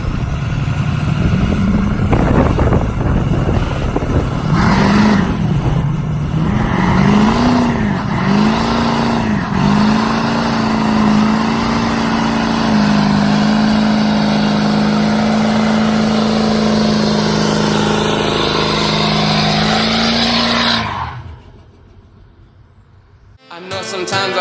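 A 600-plus horsepower LBZ Duramax diesel truck engine revs loudly and close up in repeated rising pulls, then settles into a steady high idle before cutting off abruptly near the end.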